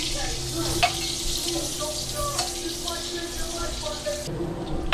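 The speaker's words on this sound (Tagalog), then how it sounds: "Lagyan natin ng konting mantika para hindi masunog yung ating" Butter with a little cooking oil sizzles in a pan for egg sipo, a close, continuous hiss with faint stirring ticks running steadily throughout.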